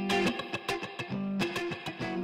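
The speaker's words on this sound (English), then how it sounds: "Okay, that's plenty of distortion." An electric guitar plays choppy, heavily distorted chords through the Newfangled Audio Invigorate plugin, with sharp rhythmic stabs and short gaps, loud and close.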